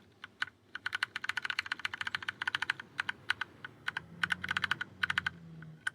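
Rapid keypresses on a computer keyboard, clicking in uneven bursts with short pauses between, close by, alone with a low background hum.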